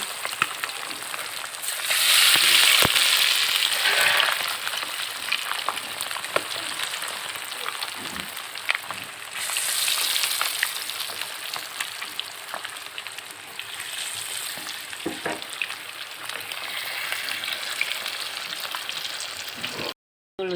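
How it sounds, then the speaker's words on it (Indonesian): Steady sizzling crackle of chicken frying in hot oil, swelling louder in a few waves, with small pops and bubbling throughout and no talk. "Nah, begini goreng ayam bawangnya."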